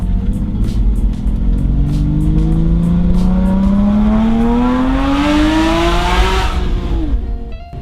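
A Porsche Boxster Spyder's 3.8-litre engine roars loudly and steadily climbs in pitch under acceleration, then drops sharply off throttle, close and continuous with no talk.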